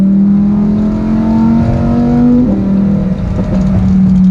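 A Lamborghini Huracan Performante engine in Corsa mode drones loud and close from the cabin, its pitch climbing steadily before dropping sharply and settling lower.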